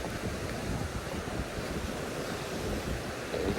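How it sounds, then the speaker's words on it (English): A river flows beneath a footbridge in Riverside Park, Guelph, giving a steady, broad rushing wash of water that stays even and fairly loud throughout, with some wind noise. "you got the river flowing down"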